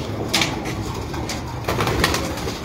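A Lal Pari breed pigeon coos on a rooftop loft, a few soft low throaty calls close by, with faint background noise between them.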